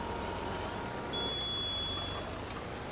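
A thin, steady electronic reversing beep from a vehicle in Farming Simulator 22 sounds over a constant low engine rumble, faint and continuous for a couple of seconds.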